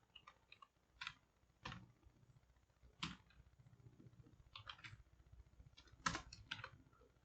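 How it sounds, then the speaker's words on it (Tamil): Close keystrokes on a computer keyboard during a Python coding lesson, irregular bursts of clicks separated by short pauses, with a faint fan-like hum underneath and no speech. "இருங்க, நான் இதை டைப் பண்ணிவிட்டு சொல்கிறேன்"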